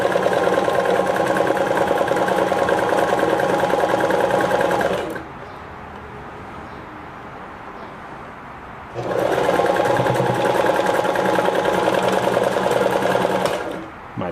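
A Kenmore 14 sewing machine set to maximum width and a short stitch runs in two steady bursts of loud, even mechanical whirring, pausing for a few seconds of quiet between runs.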